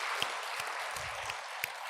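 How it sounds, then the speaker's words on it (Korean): Congregation clapping during a Korean Sunday church service near Christmas, a steady dense wash of applause with a few sharper individual claps standing out, filling the hall without talk. "박수로 하나님께 영광 올려드리십시다."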